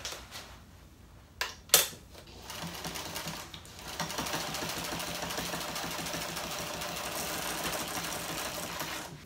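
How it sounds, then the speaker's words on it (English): A sewing machine stitches the raw edge of a canvas yoga bag, a couple of sharp knocks first, then a steady fast whirring run that carries on to the end. "I'm just going to go back and sew a little bit farther in to make sure I've captured that raw edge"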